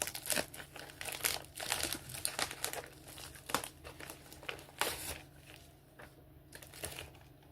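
Packing tape being peeled and crinkled off a Woods mattress package during unboxing, with irregular crackling rips and plastic rustles, close and fairly loud, easing off toward the end.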